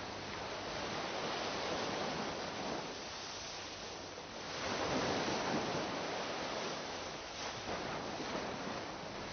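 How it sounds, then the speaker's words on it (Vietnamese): Sea waves washing onto the shore at the Long Giang river mouth, a steady broad rushing wash that swells and recedes, continuous and moderately loud with no voices. "Muôn lớp sóng vô tư hôn bãi bờ"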